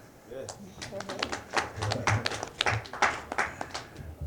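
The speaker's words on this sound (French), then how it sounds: "Vous pouvez vous applaudir." Scattered clapping from a group of journalists at a press announcement in a theatre, uneven and fairly close, with individual hand claps standing out over a murmur of voices.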